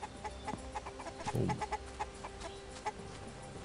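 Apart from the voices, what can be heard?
chickens clucking in video game Hype: The Time Quest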